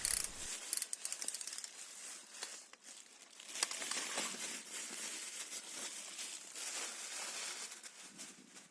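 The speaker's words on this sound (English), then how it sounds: "Now I have pre-loosened my oil filter and I will be just removing it here" An oil filter is unscrewed from a Nissan Almera engine, making quiet clicking, scraping and crinkly mechanical sounds in irregular bursts at low volume, with no voices.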